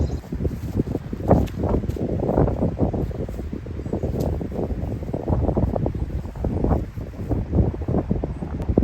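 Strong headwind gusting outdoors during a sailing race between a Cicada and a Vela, buffeting the microphone with loud, uneven rumbling blasts that continue without a break.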